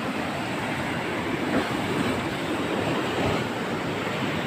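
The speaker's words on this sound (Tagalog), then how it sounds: "Lakas talaga ng alon talaga dito." Strong sea waves crash at a seawall under construction, a loud, continuous roar of surf and spray with wind buffeting the microphone.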